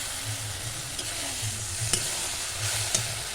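Spices and potatoes fry together in a pan, a steady low sizzle running under repeated scraping and stirring strokes, with a few sharper clinks of the spoon against the metal, close and moderately loud.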